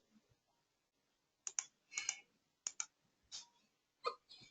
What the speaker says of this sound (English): I'm clicking submit button without checking any checkbox.